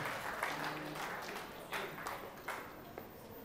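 Guests at Tatul and Meline's wedding applaud, a faint, distant wash of clapping with a few sharper claps standing out.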